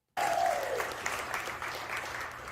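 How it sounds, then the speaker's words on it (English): Audience applause at a comedy show, a loud, dense wash of clapping that begins abruptly and holds steady throughout, with a brief whoop near the start. "Let me hear a round of applause."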